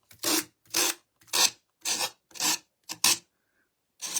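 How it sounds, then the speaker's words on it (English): Material is scraped off a paper craft page for a bird project in about seven firm, rasping strokes, each separated by a short pause, close up and alone. "A little noise because I'm going to be scraping this off."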